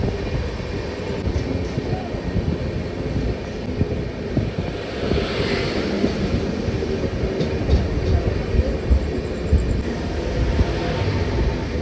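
Gour Express train 13154 standing at platform 2 at Nalhati, a continuous low rumble of the train with wind buffeting the microphone and no clear horn or announcements.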